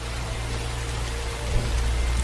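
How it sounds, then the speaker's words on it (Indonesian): Heavy rain pours steadily in a dark night scene from a ninja film, making a dense, continuous hiss with a low rumble underneath. A slight swell comes partway through, and no voices are heard. "Deras hujan disertai petir menghiasi suasana gelap di malam itu"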